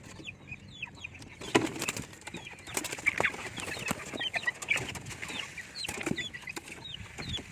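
Chickens and young chicks clucking and peeping together in a small backyard breeder pen, a steady busy chorus of short calls with occasional wing flaps, close by and moderately loud.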